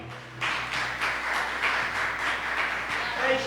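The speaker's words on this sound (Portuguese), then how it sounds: "Aplauda o Rei da Glória." A church congregation clapping in unison, a steady rhythmic beat of many hands at moderate distance that carries on throughout after a quiet start.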